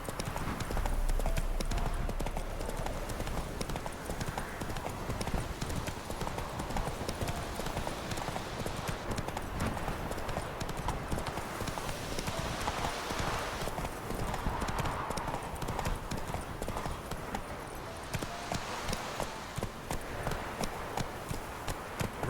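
Hooves of a horse gallop steadily in The Witcher 3, a rapid continuous clip-clop rhythm over faint ambient game sound, moderately quiet throughout.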